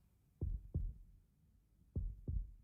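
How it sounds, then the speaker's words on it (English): Heartbeat in the video game Chaos;Child, thumping in a steady lub-dub rhythm: two paired low beats, a pause, then two more, alone over faint static. "there's no music and it's just the heartbeat sound over and over again"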